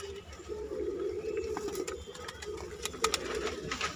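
Katdar Nafta pigeon cooing softly in a low, continuous murmur, moderately close, with faint clicks and rustles around it.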